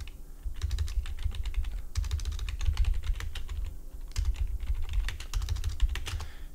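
Fast, irregular clicking of someone typing on a computer keyboard, close and steady for several seconds with only brief pauses between bursts of keystrokes.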